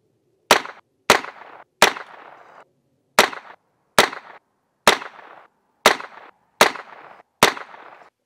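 Nine sharp revolver shots from a Heritage Rough Rider fired offhand at a target, spaced roughly three-quarters of a second apart with a slight pause in the middle, each a loud close crack with a brief echo, and no talk.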